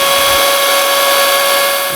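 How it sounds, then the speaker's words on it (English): A small Milwaukee cordless chainsaw cuts through logs with a loud, steady, high-pitched motor whine and chain buzz that holds close and constant throughout, easing slightly at the end. "this little Milwaukee chainsaw, as good as it is great for stealth log cutting"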